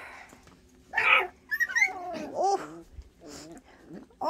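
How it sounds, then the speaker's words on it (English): A small dog gives one short, high little bark, followed by a few soft whimpery yips and vocal noises indoors, close and fairly quiet against a hushed background. "That was Winston did that little bark."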